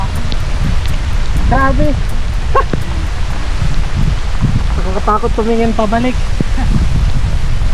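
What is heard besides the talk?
heavy rain pouring on a mountain hike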